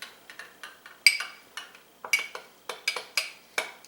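A spoon stirs salsa and sour cream together in a bowl, producing light, irregular clinks and scrapes against the dish, close and fairly quiet with short pauses between strokes.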